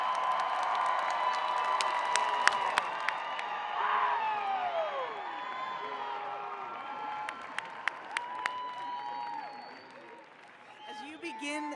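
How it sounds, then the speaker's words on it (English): Commencement audience at a 2024 School of Education and Liberal Arts ceremony claps and cheers steadily, with scattered whoops and shouts rising above dense applause, which thins toward the end. "Let's give them another big round of applause."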